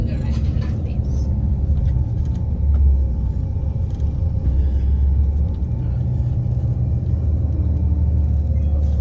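A car drives through the Castle District of Budapest past the Royal Palace, with a steady loud low engine and road rumble inside the cabin while a person talks over it.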